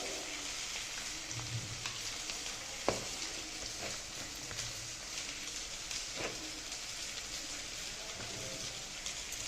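Spice paste with garlic sizzles in hot oil for an Indian-style fish fry, a soft steady crackle with occasional sharper pops and stirring clicks, fairly quiet and with no talking.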